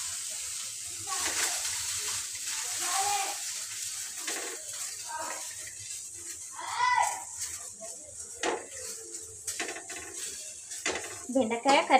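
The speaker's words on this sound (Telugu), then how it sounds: "ఇంకా ముందుగా కట్ చేసిన బెండకాయ కడిగేసి కట్ చేసిన" Freshly cut okra being rinsed in water in a home kitchen, with soft splashing, sloshing and occasional clinks of a vessel, while a voice talks now and then.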